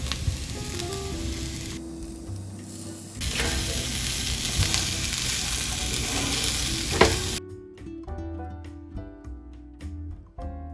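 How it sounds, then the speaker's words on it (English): A Cajun-seasoned salmon fillet sautés in a pan with a continuous, fairly loud sizzle and hiss; the texture shifts partway through, and music-like tones come in over the last few seconds. "Now we're gonna let it saute for 2 minutes."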